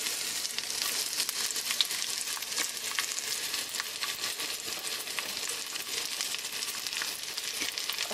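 Sweet onions fry in canola oil and butter in a skillet, giving a continuous close crackling sizzle at an even level throughout, with no talking.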